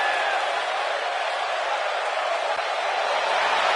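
Steady wash of arena crowd noise before a women's steel cage wrestling match, broad and sustained at an even level throughout, with no distinct voices standing out.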